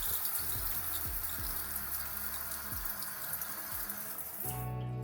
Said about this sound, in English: I'm going to rinse the shower head with water.